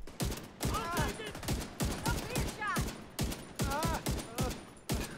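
Rapid bursts of video game gunfire crackle in quick repeated volleys, close and fairly loud, with the shots overlapping into a dense stream of fire.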